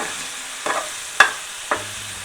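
Mushrooms roasting in oil in a pan, a soft low sizzle under three distinct scraping stir strokes spaced about half a second apart, close and fairly quiet.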